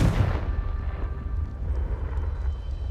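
Confringo fire-blast spell in Hogwarts Legacy bursting with a heavy, booming explosion up front, then a rumbling low tail that lingers for a couple of seconds.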